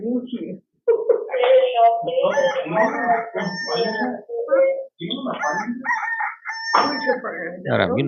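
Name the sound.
rooster crowing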